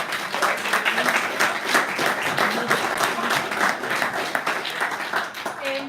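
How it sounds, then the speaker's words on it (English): Audience applause at an evening STEM teachers' meetup, thanking the presenters; sustained, evenly dense clapping from a fair-sized crowd carries on steadily throughout, with a short voiced sound near the end. "can we just have a round of applause for all of our presenters this evening?"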